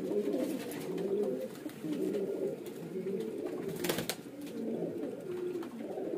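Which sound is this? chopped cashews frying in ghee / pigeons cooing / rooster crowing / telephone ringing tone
pigeons cooing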